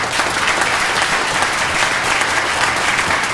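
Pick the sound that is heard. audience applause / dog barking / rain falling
audience applause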